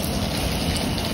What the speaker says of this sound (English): It's raining out there